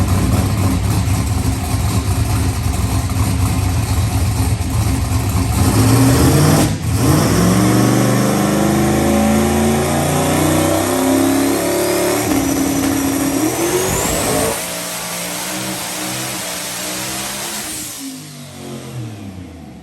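A turbocharged LSX-swapped truck engine on a dyno, loud and close, holding a steady high roar, then revving with a rising whine before easing back down toward the end.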